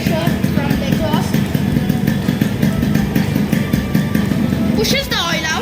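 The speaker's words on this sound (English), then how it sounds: "hope you guys are hear me over the sound of the engine" A small engine runs steadily and loudly throughout, a close, continuous droning idle with a brief change in tone near the end, part of a repair on stuck piston rings.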